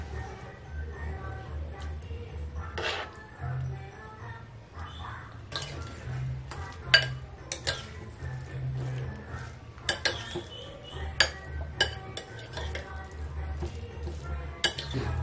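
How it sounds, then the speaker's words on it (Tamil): Cooked tomato rice is stirred and mixed in a metal pot, giving a steady scraping rustle with sharp spoon clinks against the pot sides, close and moderately loud, with no talking. "வாங்க நாம இப்ப ரைஸ் மிக்ஸ் பண்ணலாம்."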